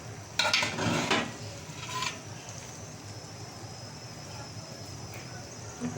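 Rice for biryani stirred in a cooking pot, a few scraping, clattering strokes of a spoon against the pot early on, then a low steady simmering hiss.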